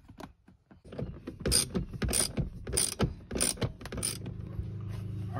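A ratchet clicks in quick bursts while loosening a bolt on a Corvette C4 seat. Several close, sharp rattling strokes are followed by a steady low hum.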